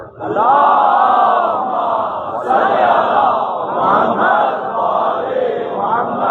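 A large protest crowd sit-in outside a press club chants salawat together in a loud, sustained unison roar that swells and surges for several seconds.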